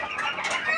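A tiny Malaysian Serama chicken gives a brief run of soft, close clucks, a short burst of quick calls with no talking over it.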